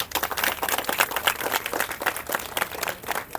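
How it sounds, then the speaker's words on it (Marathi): Enthusiastic audience applause rings out at a Marathi gathering during a temple pilgrimage tour program, a dense, steady patter of many hands clapping at close range with no one speaking over it. "एकदा प्रत्येक मराठी माणसासाठी जोरदार टाळ्या"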